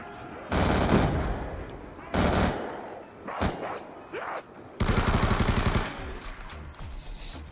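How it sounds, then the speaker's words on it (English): A rapid-fire gun in a zombies shooter game rips out several loud automatic bursts separated by short gaps, the last burst longest, with scattered quieter shots and impacts between. "This thing's so rapid fire."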